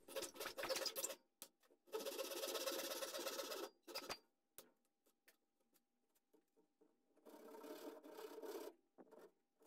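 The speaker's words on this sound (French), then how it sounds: "J'ai également des rainures traversantes à faire sur ces éléments, mais je vais les faire à la scie japonaise." A Japanese hand saw cuts through grooves in wooden bookcase parts, giving several bursts of rasping back-and-forth strokes separated by quiet pauses, close and fairly soft.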